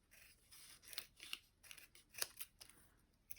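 Scissors snip through paper for homemade crackers, several short crisp cuts in an irregular rhythm, close and fairly quiet, with no talking.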